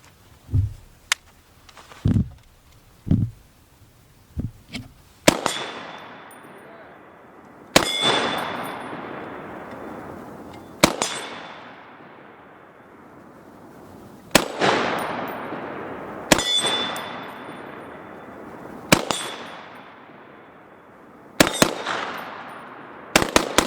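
Shots from a Springfield M1A Scout rifle ring out about every two to three seconds at an outdoor range, each sharp crack followed by a ringing clang from a steel target, after a few quieter knocks at the start.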